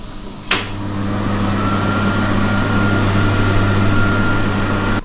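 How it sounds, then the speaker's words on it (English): A kitchen extractor fan switches on with a click and then runs with a steady, close hum and whoosh. The sound stays level and there is no talking. "That is an extractor fan. Takes away all the heat and smell from what you're cooking"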